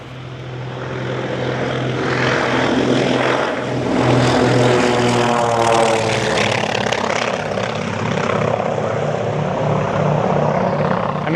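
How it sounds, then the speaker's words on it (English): A Beechcraft 18 radial-engine propeller plane roars loudly and steadily nearby, its deep throbbing drone swelling and holding with a rough, pulsing rumble throughout. "radial engine sound"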